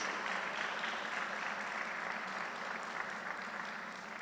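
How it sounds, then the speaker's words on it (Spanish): Church congregation applauds in honour of Jesus during a sermon, a steady, fairly distant wash of clapping that holds evenly and fades slightly toward the end. "Démosle un aplauso a Jesús"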